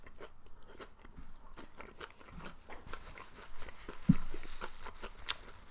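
Someone eats kimchi nachos up close, with a series of crisp bites and crunchy chewing sounds repeating steadily and growing a little louder near the end.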